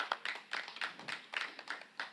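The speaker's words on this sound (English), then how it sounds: "Please give us a round of applause for her as well." Sparse clapping from an audience at a talk event, scattered hand claps in an uneven rhythm, fairly faint and thin, with no voices over it.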